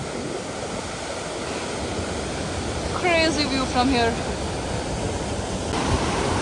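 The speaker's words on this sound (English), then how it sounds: "And we have reached the top of the waterfall." A waterfall heard from the top in a state park produces a steady, broad rushing roar close by, and someone speaks briefly over it.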